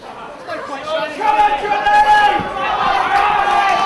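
A wrestling crowd at an FWA Crunch event chants and sings loudly together, a dense mass of voices filling the hall with a swelling, sustained roar.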